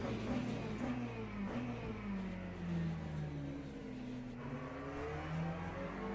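Muted, generic car engine sound from the Le Mans Ultimate online racing game: a steady mid-pitched drone with gently sliding revs, fairly quiet and continuous throughout.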